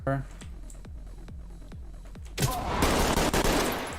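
An SA-58 rifle fires in the tactical shooter Ready or Not: a run of sharp single shots at a regular pace, then a louder, denser burst of rapid fire that carries to the end.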